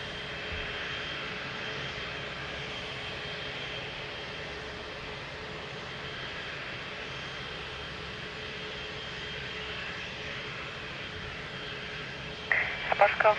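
An aircraft engine runs at Lisbon Airport as a steady, distant roar that holds level throughout, with a radio voice speaking over it and a brief clatter near the end.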